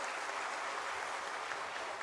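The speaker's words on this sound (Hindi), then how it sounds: "एक बार इन तमाम लोगों के लिए जोरदार तालियों से स्वागत कीजिए आप।" Applause from an audience welcoming guests at an Adivasi international conference, a faint, steady wash of clapping heard from a distance without speech.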